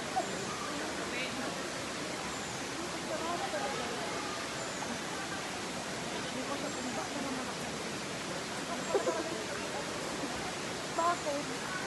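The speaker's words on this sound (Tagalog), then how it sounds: "Malakas naman yung agos yun." Strong water current at a natural pool, a dense steady rushing wash that fills the whole clip, with faint voices and brief splashes mixed in.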